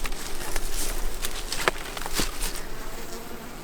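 Honey bees buzz around a hive outdoors in winter, giving a close, steady hum with a few louder passes of single bees.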